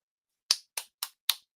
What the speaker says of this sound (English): My camera went off when I start clapping.